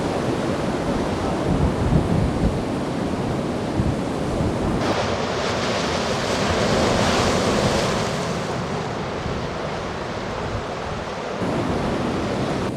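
Steady roar of Baltic Sea waves breaking and washing in at Kołobrzeg, loud and continuous with a windy hiss, no voices.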